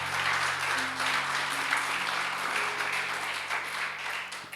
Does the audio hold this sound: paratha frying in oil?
no